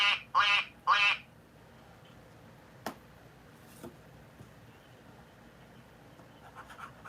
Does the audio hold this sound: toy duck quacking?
yes